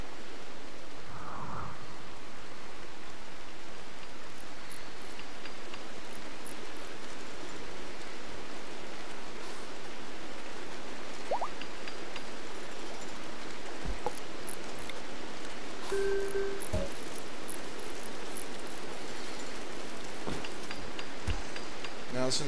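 Steady hiss of rain falling across the Rimworld map, continuous and even throughout with a few faint clicks and blips from the game, with a person talking over it.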